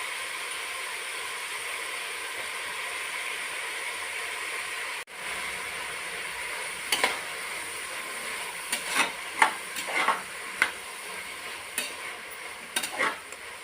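Soya chunk pulao tempering fries and sizzles in a pan with a steady hiss, broken by a short gap and then punctuated by several sharp crackles and stirring clinks in the latter half.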